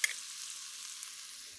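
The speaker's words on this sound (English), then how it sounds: "So we give that a stir around." Garlic sizzles faintly in a frying pan as it is stirred, a soft, steady hiss with a brief scrape at the start, quiet and without voices.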